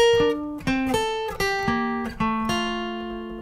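Electric guitar plays the fifth bar of a song's solo, a short run of about seven distinct single notes with quick attacks and ringing decays, clear and close with no talking.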